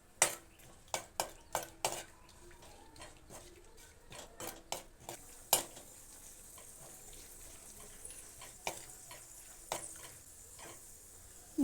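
Pumpkin seeds being dry-roasted in a pan, a metal spoon stirring and scraping with sharp clinks, clustered at first and then spaced out, over a faint background hiss.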